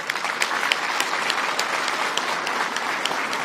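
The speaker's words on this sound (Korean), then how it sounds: "여러분 박수 한번 쳐드리실까요?" Dense, even applause fills a hall at the Gwangju job investment agreement ceremony, many hands clapping together at steady loudness for the whole stretch with no voices rising above it.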